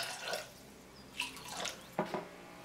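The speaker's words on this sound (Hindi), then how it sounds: "इसमें डालेंगे थोड़ा सा पानी" Water poured over long cut pieces of chicken for chicken chow mein gives a few short splashes and drips in separate bursts, close and fairly quiet, with no talking.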